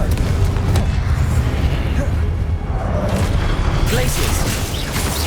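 Confringo explosive spell cast in Hogwarts Legacy, a booming, blast-like burst with rumbling low end that swells and lingers amid dense game sound effects and background noise.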